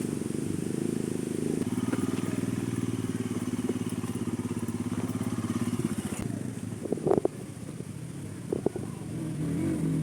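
Motorcycles ridden up by friends on a ride near a Shiva temple idle and rumble in a steady close drone, with a few clattering knocks and revs toward the end.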